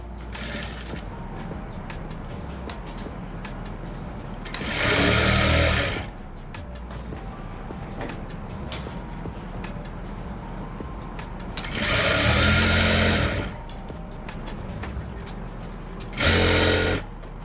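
A sewing machine stitches salwar fabric in three loud, fast bursts of running stitches, separated by quieter pauses with light handling sounds.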